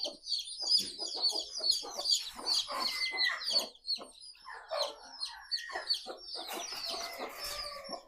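A crowd of chicks peeps continuously, high thin chirps overlapping in a busy chorus close by, with an occasional lower cluck.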